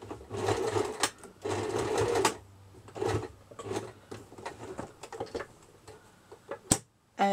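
A sewing machine stitches the sole onto a fabric doll's shoe in several short bursts of rapid mechanical whirring, separated by pauses and small clicks, close up with no talking.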